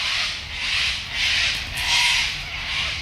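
A dug-up 1930s penny, found while metal detecting in a Sydney park, is rubbed clean of dirt, giving a steady close scratchy rubbing in about five rhythmic strokes, with no talking.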